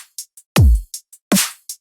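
A very simple hyperpop drum top loop: a steady, dry groove of crisp hi-hat ticks with a deep booming kick and a bright snare hit, repeating loud and up front with no voices.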